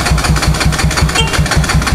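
A motorcycle engine runs at a garage after being started, chugging in a fast, even idle rhythm of loud, close exhaust pulses with no voices.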